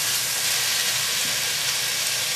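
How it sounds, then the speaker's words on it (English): Pasta water in a hot skillet with greens gives a steady, loud sizzle with a broad hiss of steam, continuing evenly without a break. "It'll sizzle and steam a little bit"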